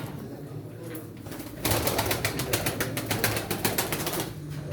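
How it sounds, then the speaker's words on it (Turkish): Tumbler pigeons are released and burst into flight with a rapid clatter of flapping wings after a quieter start, the wingbeats rhythmic and close, soft coos underneath. "Dört tane oyun kuşu."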